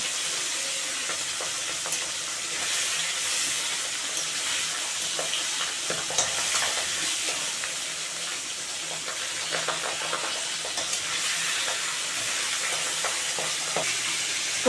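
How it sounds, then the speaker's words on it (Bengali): Pabda fish rubbed with salt and turmeric fry in hot oil in a pan, giving a steady, loud sizzle throughout, with occasional light scraping as the pieces are stirred and turned. "বন্ধুরা মাছ ভাজা হয়ে গেছে"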